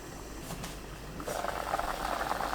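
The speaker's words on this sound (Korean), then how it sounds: "끓으면 중약불로 낮추고 그때부터 5분 더 끓입니다" Spinach and potato soup boils in a covered pot, first a faint simmer and then a louder, steady bubbling and rattling that picks up partway through and keeps going.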